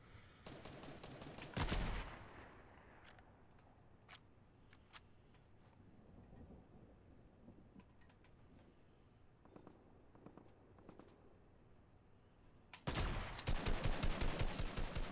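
Sniper and other gunfire in an online shooter game: a loud burst of shots near the start, a few scattered distant cracks through a quieter middle, then rapid repeated firing at the end.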